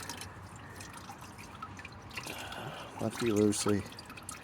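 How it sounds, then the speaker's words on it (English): Coolant draining from a valve on a Takeuchi TL8 compact track loader makes a faint, steady trickle and patter of liquid, with someone speaking briefly near the end. "Now I'm draining the coolant from this valve here."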